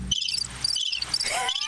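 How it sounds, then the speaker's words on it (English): Cricket chirping used as a comedic sound effect: bright, rapid pulsing trills in short bursts, loud and close with no talk. "Which one is my cricket sound effect?"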